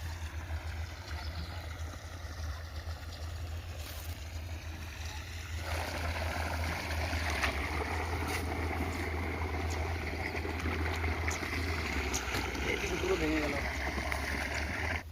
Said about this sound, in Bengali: যেখান দিয়ে সেখান দিয়ে জল ঢুকছে